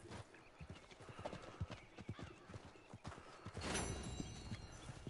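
A horse in Red Dead Redemption 2 clops its hooves in a quick, uneven rhythm nearby, then gives a loud whinny and snort near the end.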